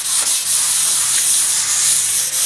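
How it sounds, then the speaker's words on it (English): A concrete countertop is wet sanded by hand with 600 grit wet dry sandpaper, giving a steady close hissing rub with brief dips as the strokes change. "You do it wet so that it cleans the sandpaper as you're sanding."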